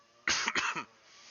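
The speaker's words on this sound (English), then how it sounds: "I do have a cough, so that'll be happening." A single short fit of coughing, two or three sharp rough bursts close to the microphone, then quiet.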